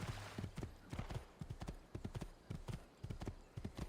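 Rapid, rhythmic clip-clop of horse hooves galloping in the video game Assassin's Creed 2, steady and fairly close, with a faint whinny-like tone underneath.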